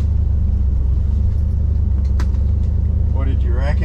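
A nitrous-fed Duramax drag truck of about 1,000 horsepower at a test-and-tune meet, heard as a loud, continuous deep engine rumble with a brief higher burst and people talking over it near the end.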